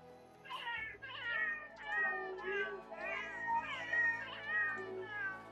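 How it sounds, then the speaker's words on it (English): An old male cat meows repeatedly up close, a string of drawn-out, whiny calls following one another with little pause. "That's Lizzie. Old man cat,"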